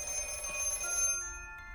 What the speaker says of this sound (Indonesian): Kemudian telepon itu berdering lagi dan Vinny